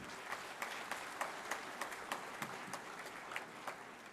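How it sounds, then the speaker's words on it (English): Audience applause for the chief guest at a university web portal launch event, dense clapping from a large crowd with a few distinct sharp claps standing out, fairly faint and steady throughout. "Ladies and gentlemen, please give a huge round of applause for our chief guest of today"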